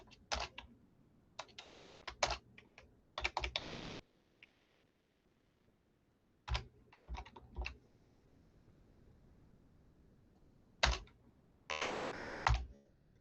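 Typing on a computer keyboard, heard as several quick bursts of clicking keystrokes separated by pauses, close and fairly quiet, with no talking.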